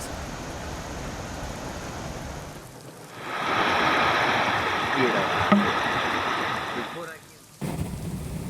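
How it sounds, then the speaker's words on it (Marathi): Heavy rain falls during flooding, a dense, loud roar of steady downpour swelling midway and then cutting off abruptly, with a voice audible alongside. "या ठिकाणी जोरदार पाऊस अजूनही सुरू आहे"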